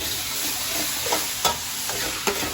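Chopped tomatoes are tipped into onions frying for a cabbage potato gravy, producing a dense continuous sizzle with a few scraping stirs and clacks of a utensil, close and fairly loud without any voice.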